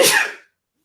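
One loud, close human sneeze, a sharp burst that fades within half a second into silence.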